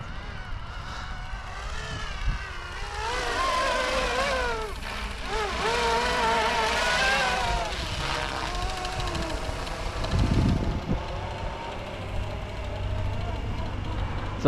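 An Airwolf-style RC model helicopter hovers nearby with a whirring rotor and motor whine that swells and sweeps in pitch as it moves, carrying a slight loose-bolt rattle.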